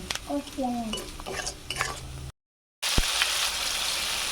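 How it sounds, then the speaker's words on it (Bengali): Chili powder and turmeric powder stir-fried in a pan for ghugni, with scraping spoon strokes and clinks over a soft sizzle, a brief silent gap, then a louder steady hiss near the end. "অল্প আছে লঙ্কার গুঁড়ো, হলুদ গুঁড়ো ভালোভাবে কষিয়ে নেব"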